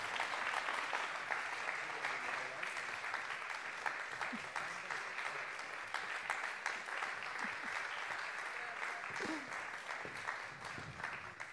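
A steady wash of audience applause at an awards gala, sustained and even throughout at moderate loudness, with faint background voices.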